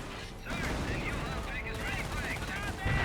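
Gunfire crackles in quick, dense bursts from a Company of Heroes battle with British and Panzer Elite forces, a mortar among the weapons, continuous rattling shots filling the short stretch.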